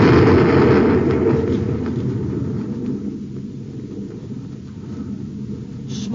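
A torpedo blast in a radio drama booms loudly at the start, then rolls off into a long, low rumbling decay that fades without ever going fully quiet.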